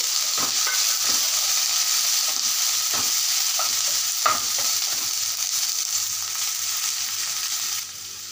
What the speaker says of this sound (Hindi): यहाँ पे हमने ऑनियन लिया है ग्रीन वाला ये डाल देंगे इसे थोड़ा सॉफ्ट कर लेते हैं